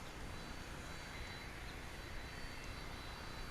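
Piedmont airliner at Dallas/Fort Worth International Airport, a steady broadband jet engine roar heard from a distance, constant and moderately faint throughout.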